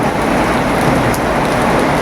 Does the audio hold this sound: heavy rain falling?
yes